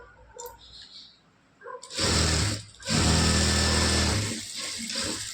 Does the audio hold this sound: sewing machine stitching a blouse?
yes